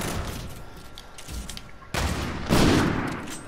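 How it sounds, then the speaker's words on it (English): Gunfire from a gun in the video game Call of Duty comes as rapid bursts of shots, with a sharp, louder volley partway through and a heavier blast after it. "Make sure you shoot your gun when you're in the air"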